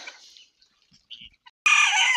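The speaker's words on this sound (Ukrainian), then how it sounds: "Тому то так курочки. І цесарочки, і качачки" Chickens, guinea fowl and ducks in a farmyard: scattered faint clucks, then a sudden loud, close burst of harsh calling that fills the last half second.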